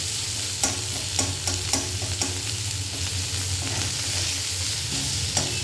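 Fish rubbed with salt and turmeric sizzles steadily in hot oil. A spatula stirs and scrapes the pan in repeated light taps, close up, with no one speaking.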